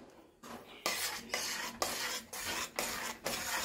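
A spoon stirs jaggery syrup into powdered rice flour in a bowl, making loud, rhythmic scraping strokes, about six in a row, with short pauses between them.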